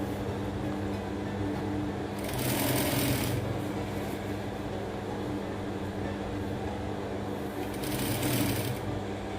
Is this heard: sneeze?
no